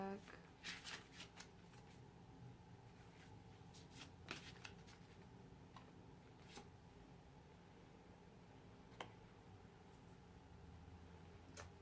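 Oracle cards are shuffled repeatedly up close, with quick riffling bursts and soft flicks against a quiet background.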